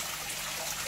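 A small garden koi pond waterfall trickles and splashes in a steady, broad wash of water noise, close and continuous without pauses or voices.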